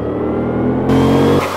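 A Chevrolet Camaro engine revs hard in the racing game Forza Motorsport 5, a loud, close, sustained mid-pitched drone that rises in pitch partway through, with no talking.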